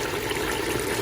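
Water poured into a pot for cooking rice, a brief steady splashing stream, close and even, with no voices.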